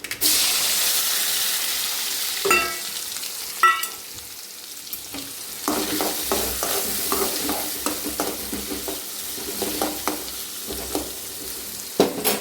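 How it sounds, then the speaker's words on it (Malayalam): Mustard seeds and coconut pieces fry in hot oil for a Kerala country chicken curry, with crackling sizzle, scattered pops, and stirring clatter up close. "കടുക് പൊട്ടി കഴിയുമ്പോഴത്തേന് നമ്മുടെ ഈ തേങ്ങാക്കൊത്ത് അതിലേക്ക് ഇട്ട് കൊടുക്കാം"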